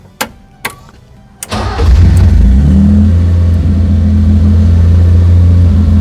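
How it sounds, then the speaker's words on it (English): A BMW E30's engine starts up after its fuel pump was replaced: a few sharp clicks, then a loud crank that catches into a steady, close rumbling idle, with no voices. "we'll go ahead and turn the car on and see if we did a good job"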